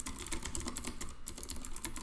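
Fast, light clatter of keys on a computer keyboard during a Clojure programming session, steady and close but quiet, with no voices over it.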